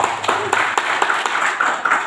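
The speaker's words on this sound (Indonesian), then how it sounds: "Tepuk tangan dulu." Short burst of audience clapping at a health product presentation, close and fairly loud, with distinct hand claps in a quick uneven rhythm.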